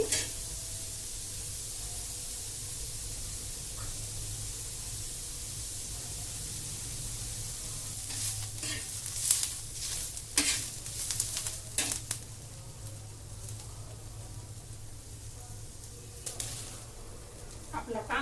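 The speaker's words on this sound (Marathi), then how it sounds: "मी मीडियम दोन कांदे घेतलेले आहेत ते काय करते मी छान लालसर भाजून घेते" Two medium onions fry until reddish for a spicy soyabean curry, a low steady sizzle that later breaks into bursts of stirring and scraping, with no voices.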